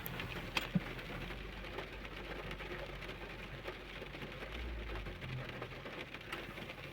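Light rain falls outdoors, a soft, continuous patter heard alone at low level, with a couple of faint clicks near the start.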